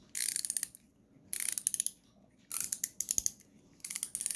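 An EZ Red WR5ML ratcheting wrench gives four bursts of rapid, crisp metallic clicking, each lasting about half a second and separated by short pauses, close up with no talking.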